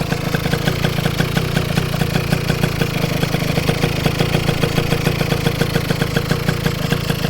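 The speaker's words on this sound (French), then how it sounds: "j'ai essayé de régler le ralenti comme je pouvais" A Derbi motorcycle fitted with a 70cc Metrakit kit idles close by, a rapid, even two-stroke putter that stays loud and steady throughout with no talking.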